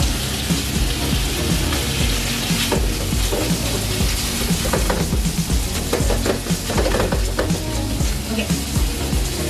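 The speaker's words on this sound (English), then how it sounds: "While my meat is cooking" Meat fries in a pan for carne con papas, a steady loud sizzle and hiss that runs throughout with faint crackles and no talking.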